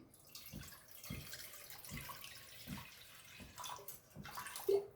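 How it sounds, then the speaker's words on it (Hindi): Water splashes and pours steadily into a metal steamer pot on a low gas flame, with a soft repeating sloshing rhythm, close and fairly quiet. "स्लो गैस पे मैंने स्टीमर लिया है, उसमें पानी डालूंगी"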